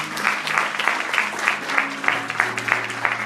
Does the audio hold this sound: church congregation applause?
yes